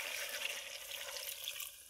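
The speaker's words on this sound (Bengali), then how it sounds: "কষে গেছে, এখন আমরা পানি দিয়ে দিব।" Water is poured into a pot of beef that has been fried down in oil in a village kitchen. A steady, soft rushing pour runs through the whole moment, with no one speaking.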